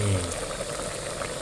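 Water bubbles and simmers at a rolling boil, a steady frothy hiss close by with a voice speaking briefly over it.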